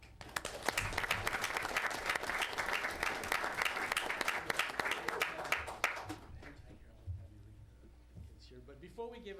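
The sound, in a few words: round of applause at city council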